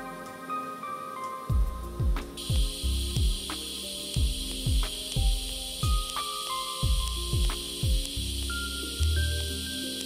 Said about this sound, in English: TIG welding is perfect for this kind of precision work.